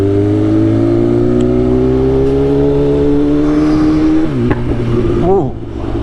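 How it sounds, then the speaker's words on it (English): A Volkswagen with an Akrapovic Shorty exhaust roars loudly at high speed, its engine drone rising steadily before shifting and crackling with exhaust pops near the end. "I love them pops on the D-cell, man. Sound nasty with this Akrapovic Shorty exhaust we got on here."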